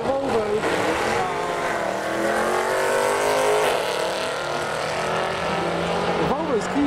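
A lifted Volvo accelerates hard down a drag strip, its engine droning loud and rising steadily in pitch through the gears, with race commentary talking over it.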